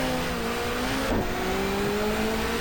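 A race car engine in the GTR2 video game, a touring car from the 1994 Asia-Pacific championship, holds a loud steady drone in fifth gear, then the pitch dips briefly under braking before climbing again, with no speech.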